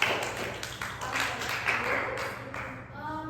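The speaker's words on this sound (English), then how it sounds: "Give applause for the class." A classroom applauds together for a few seconds during a school microteaching session, the clapping fairly faint and steady with a voice briefly speaking near the end.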